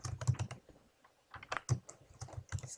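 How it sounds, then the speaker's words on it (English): Quick bursts of typing on a computer keyboard, entered into a Google Drive form field, clatter in two close clusters with a short pause between them. "And then you could type it right in there."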